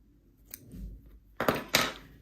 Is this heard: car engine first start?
no